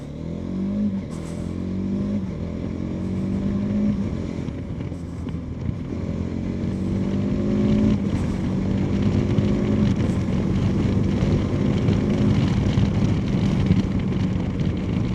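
A TVS Apache RTX 300 motorcycle rides on a highway, its engine a steady close drone that rises and falls through gear changes, with constant wind rush over the microphone and no talking.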